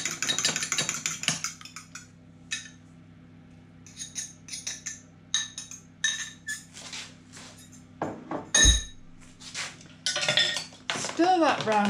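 A Roman patina mixture is stirred in a bowl with repeated clinks and scrapes of utensil against dish, close and fairly loud, in irregular bursts over a low steady hum.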